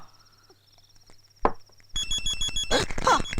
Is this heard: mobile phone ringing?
yes